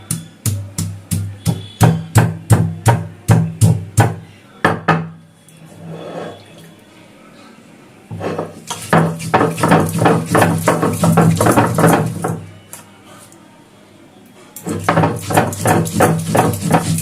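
Fennel seeds and a piece of ginger are ground into a spice paste, giving rhythmic, fairly loud scraping strokes in quick regular runs, separated by short pauses and quieter stretches.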